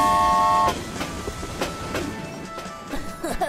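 A cartoon train rumbles along the rails with rhythmic clacking and metallic squeals, after a brief sustained horn-like tone at the start.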